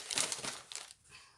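Cardboard packaging from a parcel being handled: quick crinkling and crunching rustles up close, a burst of them followed by a shorter scrape, fairly quiet and with no talking.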